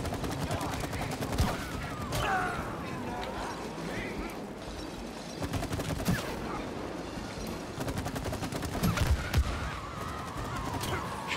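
Gunfire in the co-op video game It Takes Two, a scattered run of shots mixed into busy game sounds and music while players talk over it.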